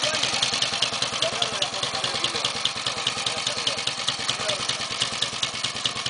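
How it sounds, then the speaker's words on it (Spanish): A 1947 Royal Enfield motorcycle lying tipped over keeps its engine running, a steady, rapid thumping beat with metallic clatter, close and continuous throughout. "Quedó volcada andando la moto."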